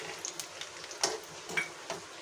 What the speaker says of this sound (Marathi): शेंगदाणे खरपूस तळून घ्यायचे, आधी तळून घ्यायचे